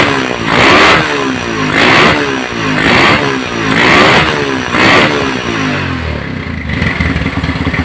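A Honda GL Pro motorcycle engine with a misfiring, stalling problem is revved in repeated bursts about once a second, loud and close, then drops back to a rough, sputtering idle.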